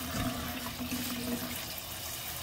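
American beautyberries washed under running tap water, a steady close splashing stream that stays constant throughout, alone without speech.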